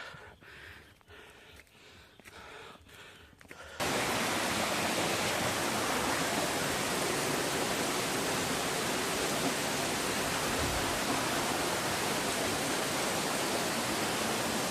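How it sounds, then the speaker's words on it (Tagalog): A waterfall in open grassland roars as a loud, steady broadband rush of falling water, starting abruptly after a few seconds of quieter ambience and continuing unbroken to the end. "May falls pa."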